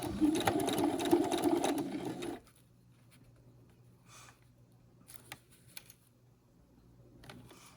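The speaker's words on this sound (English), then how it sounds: "I'm going to sew straight." A sewing machine stitches a zipper panel in a steady, loud run for about two seconds, then stops, leaving only faint handling clicks and rustles.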